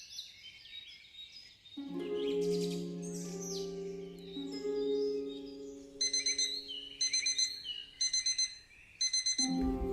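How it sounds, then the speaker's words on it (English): A shrill alarm clock rings in short repeated metallic bursts, loud and close, with a tonal electronic chime and bird-like chirps at the start and no voices. "The shrill blare of an alarm clock sliced through the quietness of an old room"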